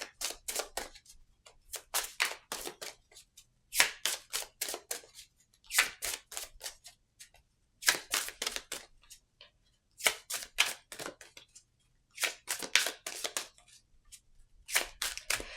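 Oracle cards shuffled up close in repeated bursts of crisp riffling and snapping, each flurry lasting a second or two with short pauses between, heard alone without talking.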